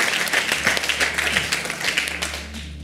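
Church congregation applauding during a Sunday morning worship service, a steady wash of many hands clapping with sharper individual claps standing out, continuous and fairly close throughout.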